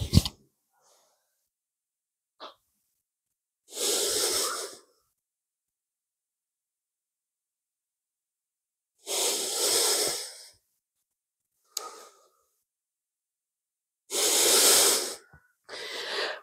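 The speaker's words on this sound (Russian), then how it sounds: "Восстанавливаем дыхание. Дышим нижней частью живота, средней, верхней и полный выдох." A person breathes deeply during a fascial stretching session, slow breaths drawn through the belly and chest with long hissing exhales, several separate breaths spaced by silence, close and clear.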